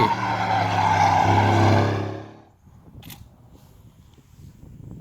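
A Mercedes-AMG GLC 63 S roars past with a loud, rising engine note and a harsh tonal whine that cuts off after about two seconds, leaving faint background rumble and a brief click.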